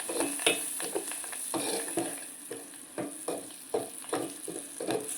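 Fried liver with coriander stirred in a pan, repeated scraping strokes of a spatula over a soft background sizzle, steady and close.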